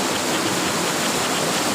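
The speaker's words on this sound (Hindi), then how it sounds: "देखिए कितना सुंदर झरना है" A scenic waterfall, one of a pair of falls, pours with a loud, steady, close roar of crashing water that fills the whole moment without any speech.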